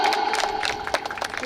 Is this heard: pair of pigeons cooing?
no